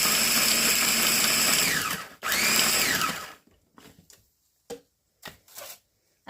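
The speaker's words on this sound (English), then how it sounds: "I like to grind my kale up." A blender grinds kale in a loud, steady whir for about three seconds, with a brief drop partway through. Afterward it goes quiet apart from a few short handling knocks.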